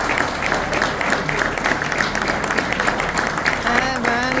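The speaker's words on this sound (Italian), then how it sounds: "Vi facciamo un applauso?" Audience applause at a regional amateur football awards ceremony in a hotel hall, a steady dense clapping held at even loudness throughout, with voices talking over it and a brief sung or called tone near the end.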